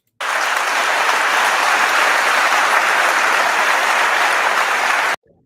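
Audience applause at a TEDx talk, a loud, dense, steady wash of clapping that fills about five seconds and then stops abruptly.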